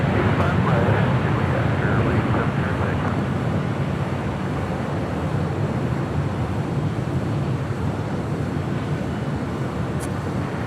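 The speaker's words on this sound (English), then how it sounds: "That was United Airlines Flight 230 coming in from London on the 787-9 Dreamliner" A United Airlines Boeing 787-9 Dreamliner on Flight 230 from London lands at LAX, a steady broad jet roar with wind buffeting, loud and continuous throughout.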